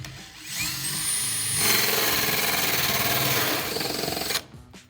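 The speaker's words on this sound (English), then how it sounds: "we're gonna come to that location that we marked previously, center our hole saw over the top of it," Hole saw cutting a drain hole through a shower base, a loud grinding, buzzing whine that starts, surges in intensity, holds steadily for a few seconds, then cuts off abruptly.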